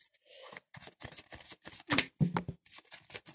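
Oracle cards shuffled by hand, a close, quiet sequence of short papery riffles and flicks in uneven bursts.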